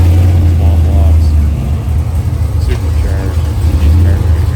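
Chevrolet Chevelle convertibles with LT1, LS and small-block engines, some supercharged, idle and rumble close by at Hot August Nights in Reno, a steady low engine drone with voices faintly underneath.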